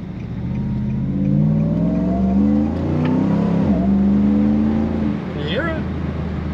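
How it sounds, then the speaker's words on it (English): Supercharged car engine with a snorkel intake, heard from inside the cabin with the sunroof open and the passenger window cracked, giving a steady drone of induction suck and wind that rises and falls in pitch under acceleration. "that wind and the induction suck"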